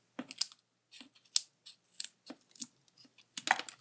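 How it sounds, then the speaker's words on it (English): Scissors snipping through a plastic spoon, a series of short sharp clicks and crunches spaced irregularly, close up with no voices. "I'm just going to cut it down with my scissors"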